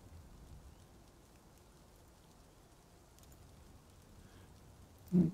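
Rain falls in Dwarf Fortress as a faint, steady hiss of patter throughout, with a brief louder tone near the end.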